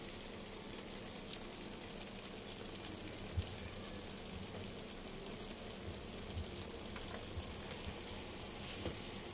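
Steady low bubbling and faint sizzle of a stew simmering on low heat in a pot, a continuous gentle hiss with occasional soft pops, no voices.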